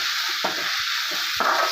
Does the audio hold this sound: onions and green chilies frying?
yes